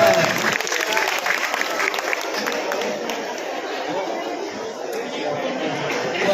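A crowd at a Hindi-Urdu poetry gathering claps steadily and densely for several seconds, the sustained applause mixed with murmuring chatter throughout.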